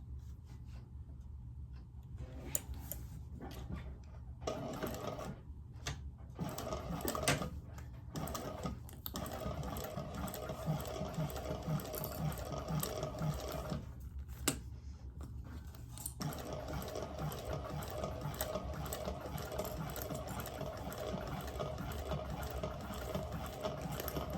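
A sewing machine stitches a seam in quick rattling runs broken by short pauses, close and steady, with faint handling noises in the gaps.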